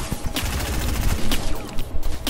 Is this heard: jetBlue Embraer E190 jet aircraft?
no